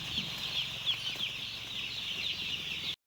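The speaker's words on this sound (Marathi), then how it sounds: "तर तुम्ही बघू शकता की हा आपला पाच हजार पक्षीचा फार्म आहे" Steady chatter of many chickens in an enclosed 5000-bird poultry farm, a continuous high-pitched peeping and clucking din with a low mechanical hum underneath.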